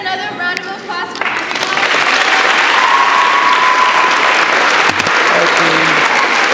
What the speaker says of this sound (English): Can I please get another round of applause for